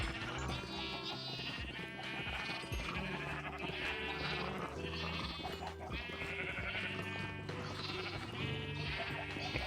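Sheep in the Minecraft video game bleat repeatedly, several overlapping calls that stay close and steady throughout, with no talking.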